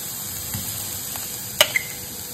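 Onions and ginger-garlic paste sautéing in a pan for a coriander paneer gravy give a soft, steady sizzle, with a couple of brief utensil clinks near the end.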